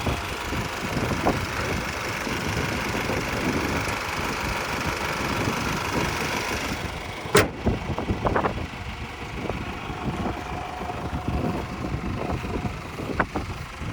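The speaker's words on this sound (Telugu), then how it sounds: "ఇది ఒరిజినల్ ఇంజన్ సౌండ్" Engine of a Honda City car with about 1.5 lakh km on it, idling steadily after a carbon-cleaning treatment, a constant close low rumble with a few brief knocks and clicks partway through.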